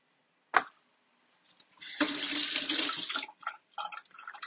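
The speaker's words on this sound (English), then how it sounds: "the rest of the thing is some dill pickle juice" Dill pickle juice poured into a vegetable dip makes a steady liquid splash for about a second, with small clinks and handling noises before and after, fairly close and alone.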